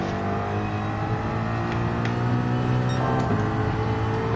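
Race car in Gran Turismo 7 powering out of a corner, a loud, steady engine drone climbing gradually in pitch with faint tire and gear clicks.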